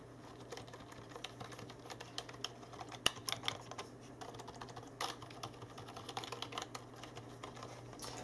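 Soft, rapid key clicks patter continuously on a quiet SteelSeries Apex RAW keyboard, close and low in volume, with a few slightly sharper taps.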